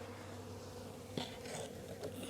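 Honeybees and big drones hum steadily around an open hive, a dense continuous buzz close by that swells now and then as individual bees fly near.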